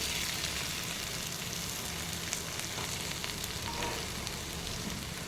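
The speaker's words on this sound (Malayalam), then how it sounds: "ഒരു ഫ്രൈ പാൻ വെച്ചിട്ട് അതിലിട്ട് നന്നായിട്ട് വറുത്തിടണം" A soft, continuous dry sizzle and crackle of peanuts roasting in a frying pan on low heat, fairly quiet and even throughout, with faint scraping.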